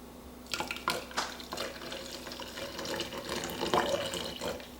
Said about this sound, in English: hot water that has just been boiled. You're going to pour that all in there